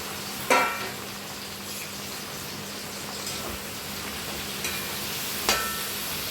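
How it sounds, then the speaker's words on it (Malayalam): Sliced okra frying in plenty of oil in a pan for a Kerala theeyal, a steady close sizzle with a few sharp clanks of a spoon stirring against the pan. "ഞാൻ കുറച്ച് കൂടുതൽ എണ്ണ ചട്ടിക്കകത്ത് ഒഴിച്ചിട്ടുണ്ട്. കാര്യം എന്താണെന്ന് വെച്ചാൽ ഈ വെണ്ടയ്ക്ക വറുത്തെടുക്കാനാണ്."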